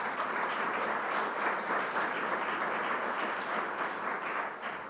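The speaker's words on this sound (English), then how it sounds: "Let's give them a round of applause." A crowd at a LEGOLAND New York Resort opening event applauds in a dense, steady wash of clapping that holds at an even level throughout and fades slightly at the end, with no voices over it.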